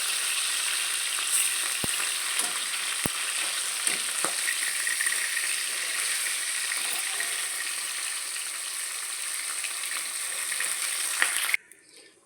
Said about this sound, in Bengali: এবার আমি আর বাকি মাছগুলো আবার একটু ভেজে নেবো।